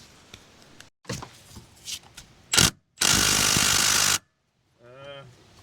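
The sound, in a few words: impact gun undoing a bolt on a car gearbox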